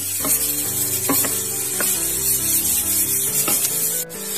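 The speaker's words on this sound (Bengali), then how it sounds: "সেই আলুটাকে আমি তেলের মধ্যে দিয়ে দিচ্ছি। এরপর আমি এটাকে ভালোভাবে স্টার করব।" Small cut potatoes fry in hot oil while being stirred, a constant close sizzle broken by several scraping stir strokes of a utensil against the pan.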